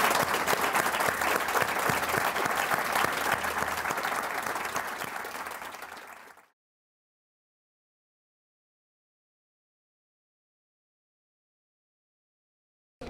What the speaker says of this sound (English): a huge round of applause, please, for Tom Gauld and Stephen Collins